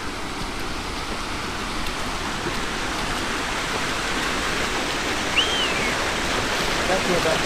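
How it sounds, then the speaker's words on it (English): A flooded creek pours across a road near an abandoned house, producing a steady, moderate rushing hiss of flowing water with no break. "We got another creek going over"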